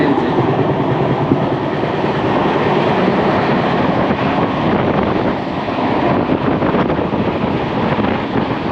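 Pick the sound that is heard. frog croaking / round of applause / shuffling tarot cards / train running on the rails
train running on the rails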